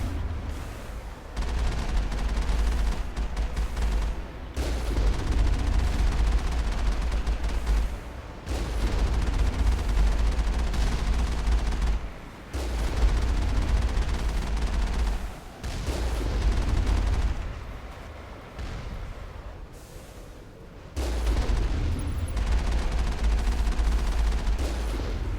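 Sustained bursts of gunfire aimed at a cannon in the video game Mass Effect, loud and dense, coming in several long volleys separated by brief pauses.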